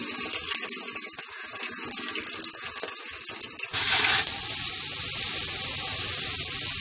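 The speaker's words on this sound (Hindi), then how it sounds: "घी डाल के हम ये अरबी को इसमें फ्राई करेंगे।" Taro (arbi) frying in hot ghee gives a steady, close sizzling hiss that continues without pause, with the tone shifting slightly partway through. No one speaks.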